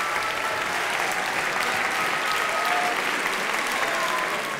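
Children applauding actors and musicians after a concert in Monaco, a loud, dense, continuous burst of clapping from a close crowd that holds steady throughout.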